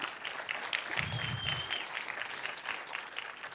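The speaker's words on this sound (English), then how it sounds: "I have to applaud." Audience applause for sponsors at the Swift Heroes 2025 conference, fairly faint scattered clapping from a crowd that continues for several seconds, with a brief whistle partway through.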